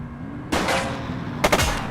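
Gunfire in The Precinct, a police action game: a loud close shot cracks in after a quiet start, then two more quick sharp bursts follow near the end, with no talk.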